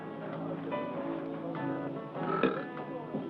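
A man lets out a drawn-out, rumbling belch after a drink, a throaty, voiced sound that swells and trails off, heard fairly close in a quiet 1971 film scene.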